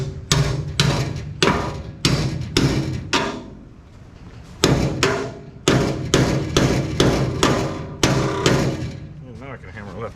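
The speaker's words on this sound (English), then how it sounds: "Now I can hammer left-handed" Sharp metal hammer strikes ring on front suspension parts, coming in quick bursts of several blows separated by short pauses, loud and close.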